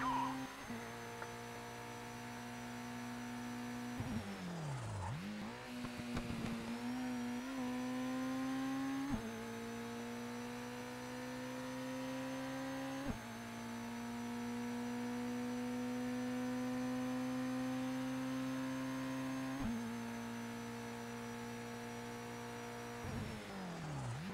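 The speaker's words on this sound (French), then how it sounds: "boum boum boum, je me demande si c'est pas le pot d'échappement." A car engine in the racing video game Toca Race Driver 2 holds a steady, droning exhaust rumble, with brief dips and rises as the revs shift, continuous and fairly loud with no voices.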